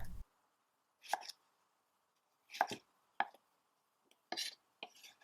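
Medium-small potatoes are cut into wedges on a board, with about five sharp knife chops coming separately amid quiet pauses, close and clear and with no talking.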